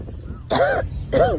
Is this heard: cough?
yes